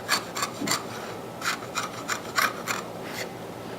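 A chisel paring wood across the grain on a tenon shoulder: a series of short, close rasping scrapes in an irregular rhythm, each stroke a brief dry shave, no talking.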